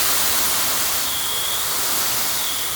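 Water from a garden hose pours under pressure into a hole dug in garden soil, a steady, loud broadband hiss and rush that holds on without pause.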